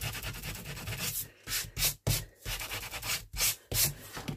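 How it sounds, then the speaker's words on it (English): Steady rasping scrubs of a sanding block lightly sanding inked paper in a junk journal, repeated back-and-forth strokes with brief pauses between them, close and fairly quiet. "If you just get a sanding block"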